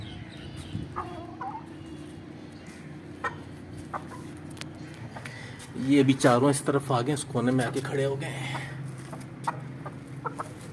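Hens cluck in their pen, mostly in soft scattered calls with a busier burst of clucking midway, while someone talks over them.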